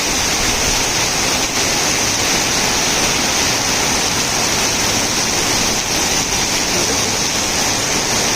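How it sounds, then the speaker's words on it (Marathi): Heavy rain and floodwater on the Deglur–Udgir road, where the roadway is flooded like a river in spate; a loud, continuous broadband rush of downpour and flowing water fills the whole stretch without a break. "या ठिकाणी खूप मोठा पाऊस आहे"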